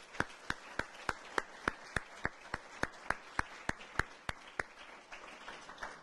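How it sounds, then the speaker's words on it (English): Banquet audience applauding at a Hall of Fame dinner, heard as a steady series of sharp, evenly spaced claps about three per second, fairly faint and distant, fading out toward the end with no talking. "So I want to thank them with a round of applause."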